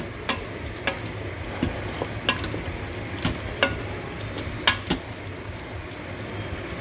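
Taco meat with four or five chopped garlic cloves stirred in an Instant Pot on sauté: steady close sizzle with repeated sharp scrapes and clacks of a utensil against the pot, no talking.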